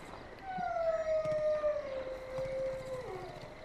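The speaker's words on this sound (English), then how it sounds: "There's a wolf over there." Wolf in the game Far Cry 5 giving one long, clear howl that rises and slowly falls over a few seconds, loud against a quiet background.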